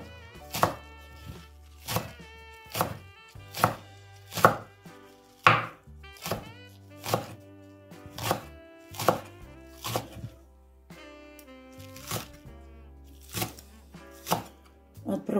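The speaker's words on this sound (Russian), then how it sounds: "Нарезаем мелко зеленый лучок." Knife chopping green onions on a board in a home kitchen, steady rhythmic thunks about one per second, close and clear, with occasional quiet speech.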